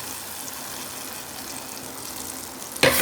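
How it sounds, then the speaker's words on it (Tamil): Hot oil tempered with mustard seeds and curry leaves being poured into a pickle mix, a steady soft hiss and sizzle with a brief sharper crackle near the end. "நம்ம தாளித்து வச்சுருந்ததை எண்ணெயோடு சேர்த்து கடுகு கருவேப்பிலையை இந்த ஊறுகாய் மிக்ஸில் அப்படியே ஊற்றிடுங்க"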